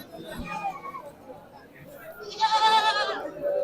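Bleats from goats and sheep at a livestock market, one loud wavering cry standing out near the end, amid people chattering in a busy outdoor crowd.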